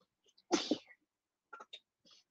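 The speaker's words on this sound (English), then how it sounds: "I had a little bit of breeze come up and I start sneezing." A single sharp sneeze bursts out close by, followed by a few faint breathy sounds and small noises in an otherwise quiet room during a bingo game.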